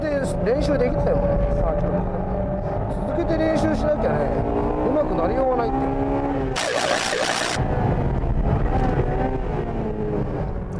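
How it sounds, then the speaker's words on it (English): A heavyweight turbo race car on a circuit, its engine loud and strained with rising and falling revs and gear changes, a brief burst of hiss partway through. "And the engine is still running strong"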